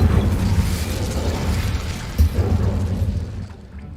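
An Incendio fire spell cast in Hogwarts Legacy, heard as a loud, rumbling burst of flame with low booming roar that swells, pops once sharply, then fades away.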